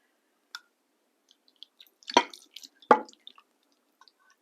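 Marinade for Chinese pork tipped over pork pieces in a container, heard as a few sparse wet splats and drips, two of them louder, in a quiet room with no voices.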